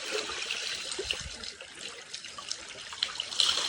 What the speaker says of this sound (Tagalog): sa akong tiilan kining bulungag naa diri ang bulog sa kusog ng tubig